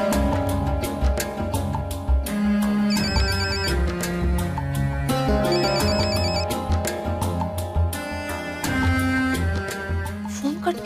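A phone ringtone plays a repeating melodic electronic tune, loud and continuous throughout, alone with no talk over it.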